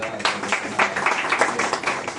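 Applause at a birthday celebration, a crowd clapping steadily in a dense patter from start to finish, with some talk blended in.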